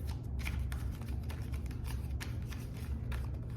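Tarot cards are shuffled repeatedly up close, a run of soft riffling flutters and snaps at a quiet level with no talking.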